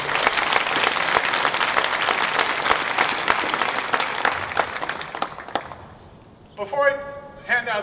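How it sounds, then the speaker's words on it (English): Audience at a CU Boulder history department commencement clapping steadily in a dense round of applause that fades out after about six seconds, followed by a speaker's voice. "let's give her a round of applause"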